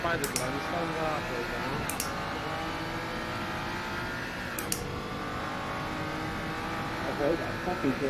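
Scuderia SCG 003 race car in Assetto Corsa, a loud sustained engine drone with shifting harmonics and occasional sharp gear-change chirps, steady throughout, with someone talking over it.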